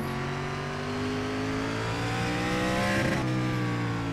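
Race car engines from the iRacing oval sim at Slinger Speedway drone and rev steadily, several cars in close company with a rising, shifting pitch as one sweeps past near the end.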